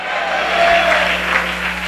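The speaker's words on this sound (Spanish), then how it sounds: "Dele ofrenda de palmas al Cristo de la gloria." A Spanish-speaking church congregation gives a dense, steady round of applause during a sermon. It is fairly loud and fills the brief moment without any voices.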